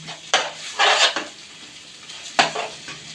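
A spoon stirs masala in a pan over a low flame while cooking a butter beans gravy. Several distinct scraping, clinking strokes stand out close by, separated by quieter gaps with a faint background hum.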